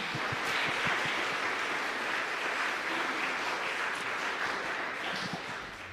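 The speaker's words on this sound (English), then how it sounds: "Can we give them a round of applause as well?" Steady applause from an audience at a piano recital in a church fills the whole stretch, a dense even clapping that tapers slightly at the end.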